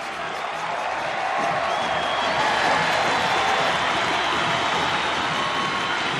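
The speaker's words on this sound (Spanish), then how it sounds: "La ovación para el retorno del 10." A vast stadium crowd at an Olimpia football match roars and applauds in a continuous, loud wash of cheering that swells slightly midway, greeting a returning player.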